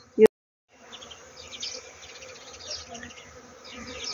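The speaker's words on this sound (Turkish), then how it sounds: "Bütün arılar şu an çiçek balı yapmak için var güçleriyle çalışıyorlar" A sharp click, then faint buzzing of bees around flowers, droning softly and steadily in the background for a few seconds.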